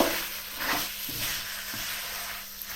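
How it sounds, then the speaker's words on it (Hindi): Chicken frying over low heat in achari masala, giving a steady soft sizzle with a few brief stirring scrapes, close by and fairly quiet with no talk. "चिकन का रंग भी बदलना शुरू हो गया है। बस हमने इसको थोड़ी ही देर भूनना है"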